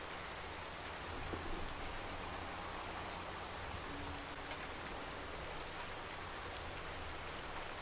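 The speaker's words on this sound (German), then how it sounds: "Immer nur Regen, Regen, Regen." Rain in the video game Farming Simulator 19, a continuous dense hiss of falling rain at an even, moderate level with no variation or pauses throughout.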